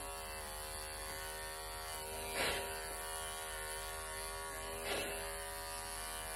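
An electric pet clipper hums steadily while a cat is groomed into a lion clip, a close, constant buzzing tone that swells briefly twice as the blades press into fur.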